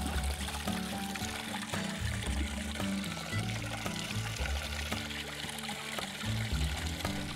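Spring water from the Hakkai mountain range pours and trickles steadily at the Raiden Sama no Mizu source in Niigata, Japan, a constant close splashing flow under soft background music.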